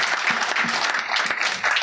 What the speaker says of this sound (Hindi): पर जोरदार तालियां होनी चाहिए